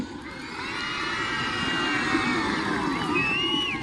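A large audience at a school stage mimicry show in Tiptur cheers and shouts together, a sustained roar of excited voices with high-pitched yells rising above it.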